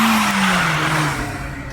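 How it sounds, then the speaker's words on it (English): A car spins all four tires in a burnout at a night car meet on Blackstone in Fresno. A loud, close tire squeal with a descending engine whine rides over a steady roar for under two seconds. "Burn all them 4 tires."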